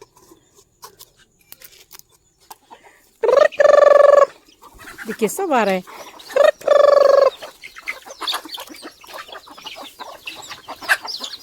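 Village chickens cluck and squawk loudly in several bursts, with a rooster-like call among them, while a person speaks briefly between the calls.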